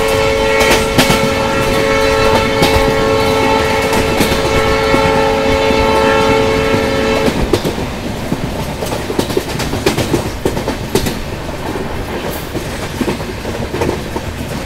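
Ashram Express passenger train running between Delhi and Ahmedabad, its loud sustained horn blaring for several seconds before giving way to steady rumbling wheels and clattering rail noise close by.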